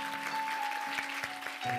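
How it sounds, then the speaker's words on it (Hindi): Congregation applauding during a church service, a steady patter of many hands clapping that fills the short stretch, with a faint sustained tone running underneath. "ताली बजा सकते हैं, बहुत अच्छी बात है"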